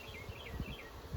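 Honey bees buzzing around an open hive during an inspection, a faint steady drone with soft wavering tones and light rustling, heard close but quiet throughout.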